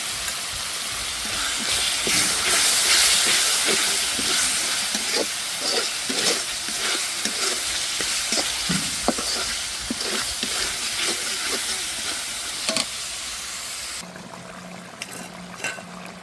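Ginger, garlic and cumin paste frying in a pan, a steady loud hiss with intermittent stirring clicks, quieting near the end.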